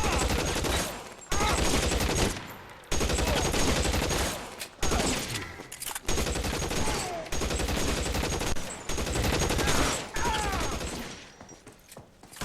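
Gunfire breaks out in the video game L.A. Noire, a loud, dense fusillade of repeated shots coming in bursts separated by short gaps, with a faint voice under part of it.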